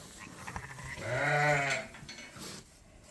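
Sheep bleat as ewes call near their lambs in a farm pen, one long wavering bleat rising loud and close in the middle, with soft shuffling and handling noises around it.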